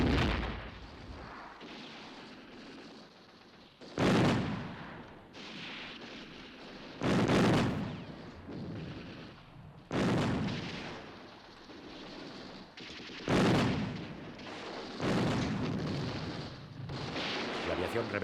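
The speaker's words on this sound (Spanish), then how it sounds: "Son horas y horas de fuego cerrado de fusil y ametralladora." Rifle and machine-gun fire with artillery during the siege of Madrid in the Spanish Civil War, heavy booming blasts repeating every few seconds over a continuous rumble of gunfire, with a narrator speaking over it.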